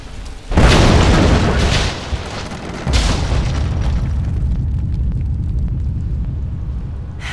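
A Greek fire explosion in a video game bursts with a loud, deep boom, then a second blast follows, each trailing into a long rolling rumble and crumbling debris.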